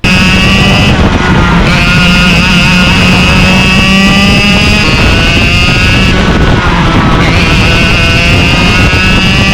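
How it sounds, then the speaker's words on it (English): High-pitched racing kart engine lapping a speed bowl, a loud, steady near buzz with harmonic whine that shifts pitch at gear or throttle changes and holds continuously throughout. "Jack Munro's asked for a lap replay through the speed bowl. We'll play that up for you in the video"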